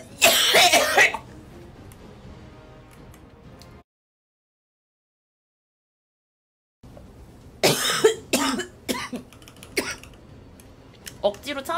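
A girl coughing indoors, a burst of harsh coughs near the start, then a silent gap, then a run of sharp coughs and throat clearing mixed with talking.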